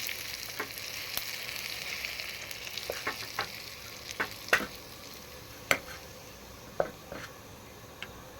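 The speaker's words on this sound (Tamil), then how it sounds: "இப்போ கடுகு பருப்பு, அப்படியே அந்த தாளிப்பை சேர்த்து." Mustard seeds and dal sizzle in hot oil for a tempering, giving a steady soft fry with scattered sharp pops and crackles throughout.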